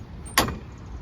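The door of a 2022 Honda Pioneer 520 side-by-side swings shut with one sharp, close latching thunk, followed by a brief fading rattle over a low idle-like background.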